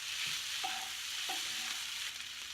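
Beef and egg fried rice is tossed in a hot pan with a continuous close sizzle and a few soft scraping stir sounds over it, without any talking.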